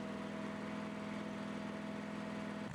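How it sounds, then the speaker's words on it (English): A Toro STX stump grinder engine runs at a steady idle, a low constant mechanical drone heard faintly and evenly throughout with no breaks. "When operating the stump grinder, you should have both hands on the controls."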